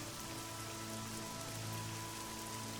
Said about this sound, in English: I think we've now transitioned into a slightly different variety of rain,